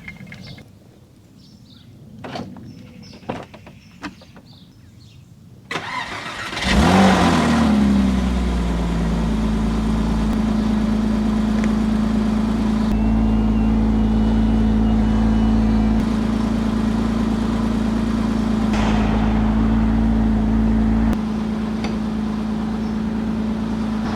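A Porsche 987 Boxster fires up after a few quiet clicks and movements, then settles into a steady, close engine drone with a low hum while driving, holding evenly for the rest of the stretch.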